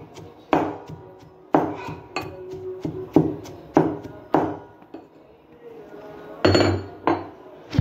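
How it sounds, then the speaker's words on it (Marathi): Green chillies, garlic, peanuts and salt are pounded in a mortar and pestle: about ten sharp, heavy thuds at an irregular rhythm, close and loud, with no talking. "याला आपण आता खलबत्त्यामध्ये बारीक करून घेऊ."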